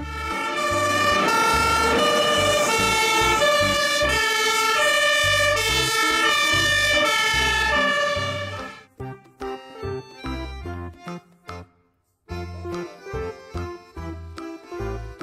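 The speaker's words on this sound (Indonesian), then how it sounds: "Mobil truk pemadam kebakaran." A toy fire truck plays a loud, continuous electronic siren tune with a steady melody for about eight seconds, then breaks into choppy, stuttering fragments with brief dropouts.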